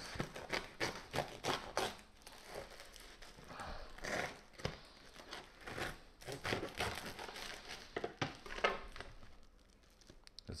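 A knife saws through a crusty homemade bread loaf, giving repeated crackling, crunchy strokes in an uneven rhythm, close but quiet.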